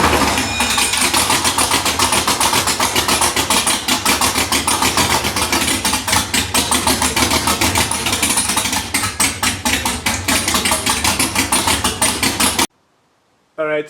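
An LS V8 engine runs steadily in a garage with fresh exhaust headers fitted, its loud, continuous mechanical drone rising in a few revs before cutting off abruptly near the end, with no talking over it.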